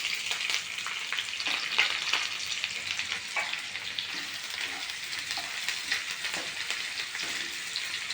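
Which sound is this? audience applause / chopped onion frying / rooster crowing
chopped onion frying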